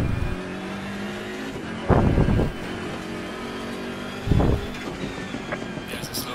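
Race car engines in Assetto Corsa Competizione drone steadily through a sprint race, with two loud bursts of rougher engine noise rising over the continuous hum.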